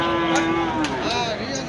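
A water buffalo lowing at Panchbibi cattle market during the Qurbani season, an older animal giving one close, loud, drawn-out moo over steady market background noise.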